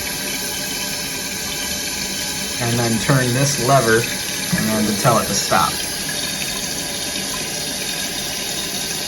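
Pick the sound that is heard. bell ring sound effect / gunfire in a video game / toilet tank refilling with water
toilet tank refilling with water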